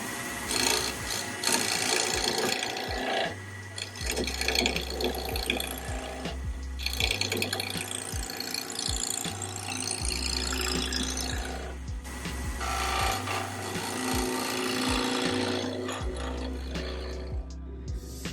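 A continuous rasping, scraping sound of a lathe tool cutting spinning wood while turning a spatula, the edge bouncing, with a low motor hum that stops and starts several times.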